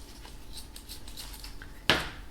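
A single sharp snip of scissors cutting through ribbon wrapped around the stems of a hand-tied bridal bouquet of garden roses, close and crisp, following a couple of seconds of quiet room tone.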